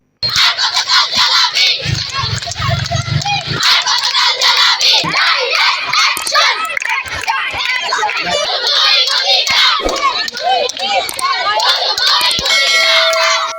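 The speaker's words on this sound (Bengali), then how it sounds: "শিক্ষার্থীরা অধ্যক্ষ কুলসুম বেগমের পদত্যাগের দাবিতে এক দফা দাবি নিয়ে রাস্তা অবরোধ করে বিভিন্ন স্লোগান দিতে থাকে" Students blocking a road in Dohar chant protest slogans demanding the principal's resignation, a loud, dense crowd of young voices shouting in rhythmic unison, continuous and close throughout.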